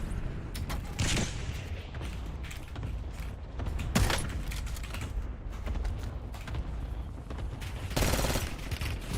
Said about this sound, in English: Whoop, someone's shooting at me.